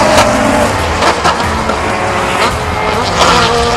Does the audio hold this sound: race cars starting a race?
yes